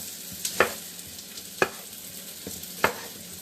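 Cherry and mini tomatoes stirred in a frying pan over a low sizzle, with three or four sharp spoon-on-pan knocks spaced about a second apart, close and clear.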